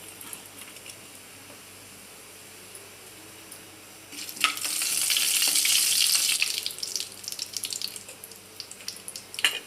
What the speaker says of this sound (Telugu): ఇక నూనె పోసుకోవాలి. ఇంకా జీలకర్ర వేయాలి, ఆవాలు, మిరియాలు